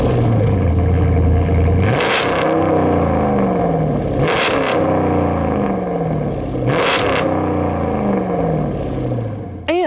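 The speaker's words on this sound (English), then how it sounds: "the exhaust does the thing that performance car exhaust should do. It sounds fantastic." A Jeep Grand Cherokee SRT8 performance SUV's exhaust revs loudly and close by, three sharp blips rising and falling over a deep, rumbling idle, with no voices.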